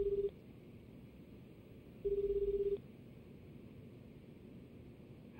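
A telephone ringback tone in a Lost Judgment game scene, two steady electronic beeps repeating with a long gap between them over faint hiss, with no talk.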